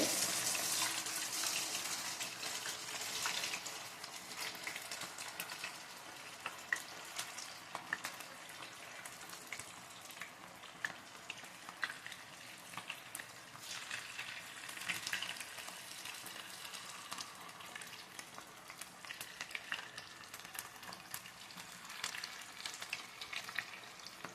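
Cauliflower pieces for green dry gobi deep-frying in hot oil on a low-to-medium flame, a constant dense crackling sizzle with tiny pops, steady and fairly quiet throughout.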